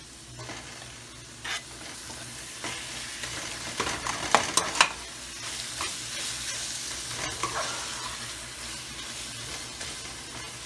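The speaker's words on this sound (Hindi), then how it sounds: "बस 2 मिनट भूनेंगे इसको" Eggplant bharta is stir-fried in a pan with a continuous close sizzle, while a spoon scrapes repeatedly in irregular bursts that cluster loudest in the middle.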